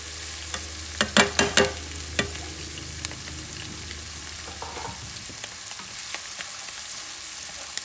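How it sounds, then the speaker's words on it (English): Onions, parsley and herbs fry in a pan, giving a soft steady sizzle. A few loud clattering stirs come early on, followed by lighter scrapes and taps of the spoon. "onions, mixing everything up"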